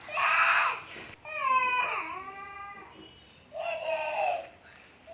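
Young children shout and wail in loud, high bursts in a home kitchen as fish curry cooks, with a rising and falling crying cry in the middle and pauses between outbursts.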